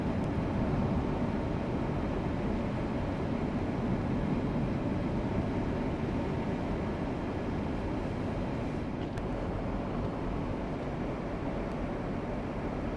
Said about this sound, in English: The wind's blowing 30 miles an hour.